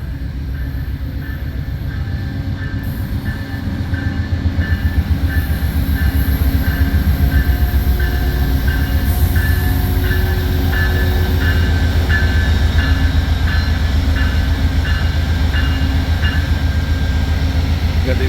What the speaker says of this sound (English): And another Amtrak train.